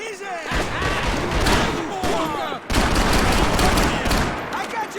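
Heavy gunfire in the action game Max Payne 3, loud bursts of rapid automatic shots and slams layered over shouting voices, with a brief pause before a second intense volley.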